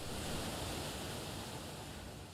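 A waterfall in the Fate/Grand Order video game rushes as a steady, full broadband roar, constant and moderately quiet with no voices over it.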